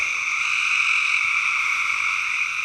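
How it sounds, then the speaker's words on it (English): Frogs croak in a dense, continuous chorus at a pond on a hillside, a steady, loud trilling with no pauses. "Out of all the frogs that we're hearing, we should be able to see the eyes."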